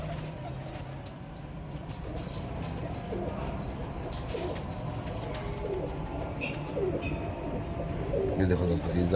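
Pigeons coo softly and repeatedly at close range, low rounded calls over a steady background hum, with faint voices nearby.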